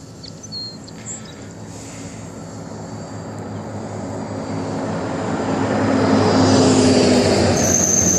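Slow Stick model airplane climbing in flight, its small electric motor droning steadily and rising in loudness as it passes closer, with no talk.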